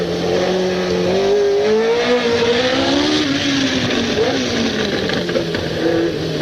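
A Tyrrell P34 six-wheeled Formula 1 race car engine screams continuously, its pitch rising and shifting as it revs and passes, loud and steady throughout with no voices.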